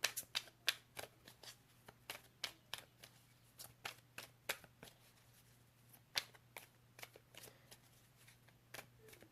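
A deck of angel cards being shuffled by hand, quiet crisp riffling bursts in an irregular rhythm with a faint steady hum underneath and no talking.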